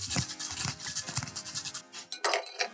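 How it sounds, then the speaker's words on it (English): An egg-white cocktail for an Ashes of an Affair is dry-shaken without ice in a shaker, giving a fast, steady rattle and slosh. It runs loud and close for about two seconds, then stops abruptly, and a few clinks follow. "Give us a little quick dry shake."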